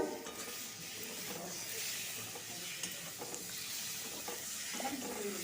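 Yam curry is sautéed with dried fenugreek leaves in a pan, a soft, continuous sizzle with intermittent stirring scrapes, close but fairly quiet throughout.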